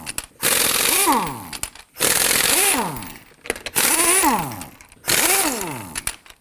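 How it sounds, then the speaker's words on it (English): Four bursts from an impact wrench loosening lug nuts with a 21mm socket on a raised Nissan Murano, each a loud, rising-then-falling whir lasting about a second, separated by short pauses, with no talk. "use our 21mm socket to loosen and remove these lug nuts"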